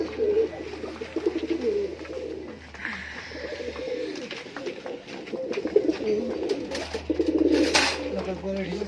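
English Nun fancy pigeons coo in low, throaty, repeated rolls, close by and fairly loud, with some chirps and voices talking in the background.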